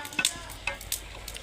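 Dal (lentils) boiling in a pot gives off soft bubbling, with a few sharper pops and clinks scattered through a low background, and no voices.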